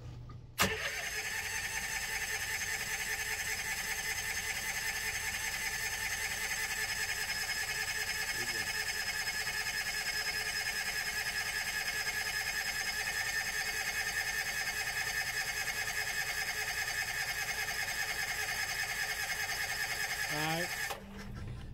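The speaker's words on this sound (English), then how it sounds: "These old carbureted Kohler generators, they can be a bit finicky on a cold startup" An old carbureted Kohler generator aboard a 34-foot Sea Ray Sundancer cranks and runs through a cold startup, a steady mechanical drone with a whine that holds for about twenty seconds before a brief stutter at the end.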